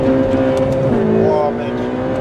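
A Ferrari's engine revs loud and close while the car drifts, a sustained roaring drone with shifting pitch, and voices can be heard over it.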